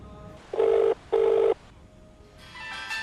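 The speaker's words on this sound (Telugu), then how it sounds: "ఎవరు ఫోన్ చేస్తున్నారే?" A telephone rings at close range: two even, buzzing rings with a short gap between them, followed by quieter rustling.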